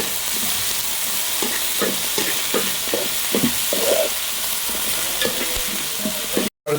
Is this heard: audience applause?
no